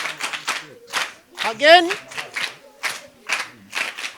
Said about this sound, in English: You can applaud for yourselves.